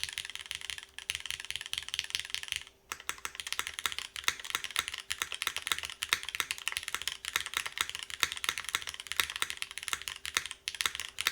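Steady typing on an Adamas Proto top-mount keyboard with an aluminum plate, MX2A switches and GMK keycaps, a dense run of crisp, close keystrokes after a brief pause.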